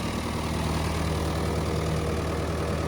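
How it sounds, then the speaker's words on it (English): An old Ford or Chevy engine idles steadily after a long warm-up, giving a constant, loud, even rumble with no talking. "it's been idling here for quite a while"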